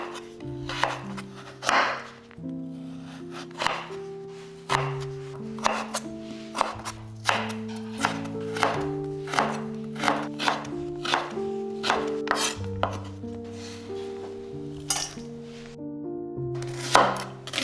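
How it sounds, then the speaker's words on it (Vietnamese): A knife slices peeled carrot into long thin strips on a wooden board in a home kitchen, giving steady rhythmic chops and scraping strokes, close and clear, with no talk, while soft music plays underneath. "Sau đó mình xắt lại thành từng sợi dài giống như là củ sắn luôn."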